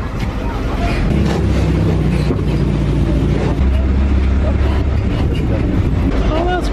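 An open tram bus arrives and drives along at Half Moon Cay, its low engine rumble steady and close under heavy wind buffeting on the microphone, with some voices nearby.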